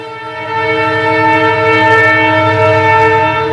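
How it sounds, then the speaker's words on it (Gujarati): A train passes close by with a sustained, loud horn blast over the steady rumble of the rolling railcars, with no voices. "જવા દો ટ્રેન ને હાલો પછી વાત કરી"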